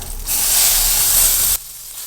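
Tomato sautéing with shallots, garlic and curry leaves in a pan for chow chow chutney gives a loud, steady sizzle that swells in and cuts off abruptly, leaving a quiet tail.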